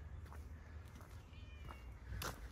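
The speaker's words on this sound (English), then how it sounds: "Let's see what Kitty Cat's up to." A cat gives a soft meow at a low level over a steady background hum, with a brief sharper noise near the end.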